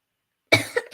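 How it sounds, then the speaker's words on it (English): A single sharp cough after a moment of silence, close and loud, followed by a shorter second cough. "Sorry, tickly cough."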